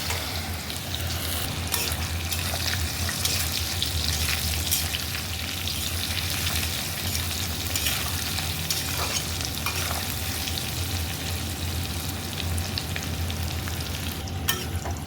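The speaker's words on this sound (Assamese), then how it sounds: "এতিয়া বইল কৰি ৰখা কচুখিনি এতিয়া ভাজি ল'ম আকৌ।" Boiled taro frying in hot oil with cumin seeds, giving a loud, steady, continuous sizzle with occasional crackles and spoon stirring.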